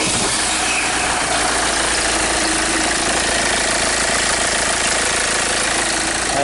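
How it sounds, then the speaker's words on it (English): A misfiring vehicle engine with a hard-start fault runs loudly and close, a dense steady roar with a rough knocking undertone and no voices. "I'm hearing a lot of noise coming from this vehicle."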